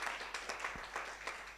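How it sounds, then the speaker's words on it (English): Faint, thin applause from a small conference audience at the end of a session, a few scattered claps at low level with a low hum underneath. "a big round of applause for the two speakers that we had here"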